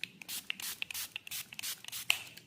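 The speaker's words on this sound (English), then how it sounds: "I'm going to spray it with alcohol now" Hand spray bottle misting alcohol onto freshly poured cold process soap, a quick run of soft, close hissing spritzes in steady rhythm, faint and alone.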